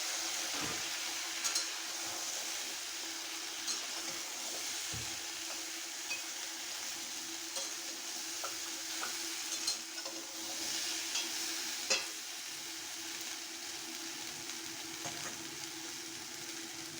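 Egg mixture fries in a pan with a steady, close sizzle and hiss that runs throughout, broken by occasional faint scrapes and stirring ticks. No one speaks.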